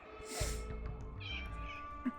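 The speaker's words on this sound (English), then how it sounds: "If you hear the cat in the background, ignore him." A cat meows in the background, with a few soft, faint calls over a quiet room hum, without any talking.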